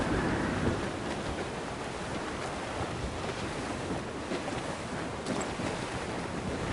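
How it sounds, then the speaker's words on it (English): Stormy wind and crashing ocean waves at sea in the video game Assassin's Creed IV: Black Flag, a dense continuous roar of gusts and surf around a sailing ship, with no voices. "The wind is picking up!"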